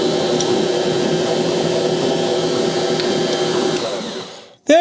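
A Bosch Universal Plus stand mixer runs at steady speed, a continuous close whirring motor hum that holds evenly for several seconds before cutting off abruptly.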